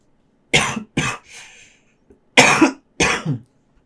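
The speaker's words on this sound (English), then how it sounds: "I'm going to cough 1 second." Four harsh coughs from a person with a persistent cough come in two close pairs, loud and near, with a brief throaty rasp after the first pair.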